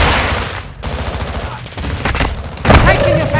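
Heavy video game gunfire crackles in dense, loud bursts, with rapid automatic shots and sharp booms overlapping in a chaotic firefight, and a few brief gaps between volleys.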